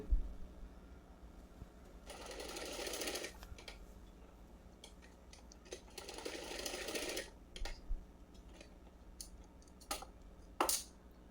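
A sewing machine stitches the side seam of a cotton frock in two steady runs of rapid, even whirring, each lasting over a second. Soft clicks and handling taps fill the pauses, and the room is quiet with no talking.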